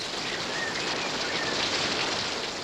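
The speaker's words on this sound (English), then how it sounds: "He claps, and it rains." Steady, dense hiss of rain falling, a continuous wash of noise with no clear gaps, fairly loud and even throughout.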